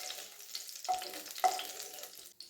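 Green chillies broken in half fry in a pan for a coriander-tomato chutney, a soft steady sizzle with two sharper spatters or stirs partway through, close and fairly quiet.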